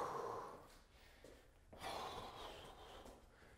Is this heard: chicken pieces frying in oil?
no